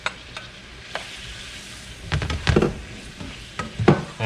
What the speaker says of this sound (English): And we are going to put our shrimp in now.